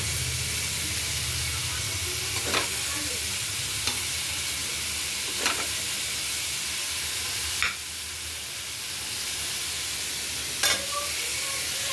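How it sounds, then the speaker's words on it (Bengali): Lentil dumplings, drumstick pieces and ridge gourd fry in hot oil with a steady close sizzle, broken by a few sharp scrapes and stirs of the spatula. "বড়ি ডাঁটা ঝিঙে ভেজে নিচ্ছি"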